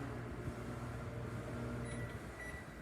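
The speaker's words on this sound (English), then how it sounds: "Your microwave's plugged in, it'll work. Quick 30 seconds on there." Steady low hum of a microwave oven running, a constant droning buzz with no voices, close by.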